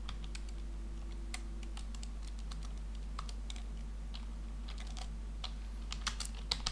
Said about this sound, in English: let me type these words for you